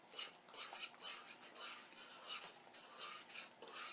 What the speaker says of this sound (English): We're going to empty in the entire contents of this pouch of potatoes, and then it says to whisk it with a fork.